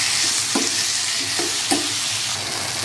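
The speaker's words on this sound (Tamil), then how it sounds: "இப்போ தக்காளியும் நல்லா வதக்கிக்கலாம்" Tomatoes with salt sauté in a pan, a bright steady sizzle running throughout with a few soft spoon scrapes and taps against the pan at intervals.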